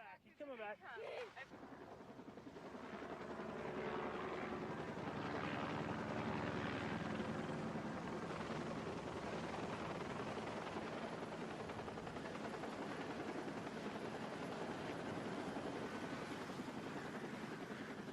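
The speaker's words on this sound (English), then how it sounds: "The Flight for Life helicopter arrived from Denver" A Flight for Life rescue helicopter's steady rotor roar fades in and holds loud and constant, with a faint voice briefly at the start.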